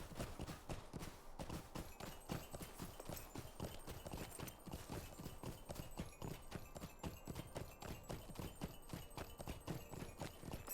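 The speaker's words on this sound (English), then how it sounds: "Time to manly run on my horse." Steady, rapid hoofbeats of a galloping horse in the online game Lord of the Rings Online, a continuous clip-clop rhythm at even volume throughout, with no talking over it.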